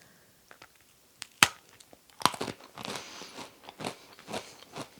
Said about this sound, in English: You heard that crunch that you're supposed to have it with the graham cracker.